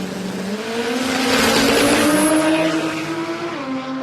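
Drag racing car launching off the line at Warwick Dragway, Australia, an Aussie-bodied car with a Japanese engine: loud, close engine roar rising in pitch as it accelerates, with rough crackling overtones.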